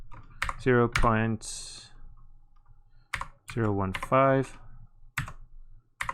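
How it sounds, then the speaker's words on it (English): Quick, light keyboard clicks tap out a short entry on a computer keyboard, interleaved with someone speaking close by. "I'll just type it in."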